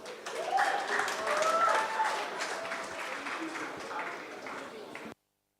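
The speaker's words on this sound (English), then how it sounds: "Israel, please, round of applause." An audience at an open-source tech conference applauds a speaker, a dense wash of clapping that holds steady for several seconds and then cuts off abruptly.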